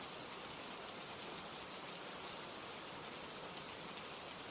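Steady rain falls in an even, dense hiss, a constant wash of drops with no other sound.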